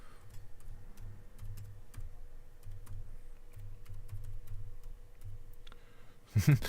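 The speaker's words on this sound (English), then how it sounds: "Typing with one finger like I'm 95 years old here." A computer keyboard being typed on slowly with one finger gives sparse, irregular, quiet clicks at an uneven pace over a faint background hum. A louder thump lands right at the end.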